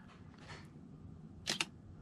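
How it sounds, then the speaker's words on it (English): A digital camera shutter fires in a quiet room, two crisp, quick clicks close together, sharp and near against faint background hiss. "Should have been able to hear the shutter."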